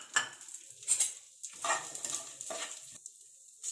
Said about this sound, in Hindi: साथ में ये पोहा भी इसी में भून लेंगे